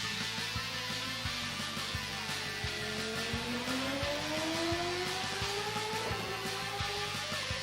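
A Formula NA 1999 racing car engine in a racing video game revs and climbs in pitch with a whining drone, steady and continuous, mixed with faint rhythmic clicks and no speech.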